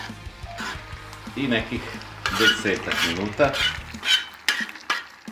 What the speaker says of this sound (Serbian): Sada dodajemo kačamak. Čujete kako to lepo cvrči.